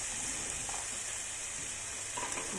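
Potatoes sizzle steadily in hot oil in a sauté pan, a close, continuous crackling hiss with a few brief louder pops, no voices.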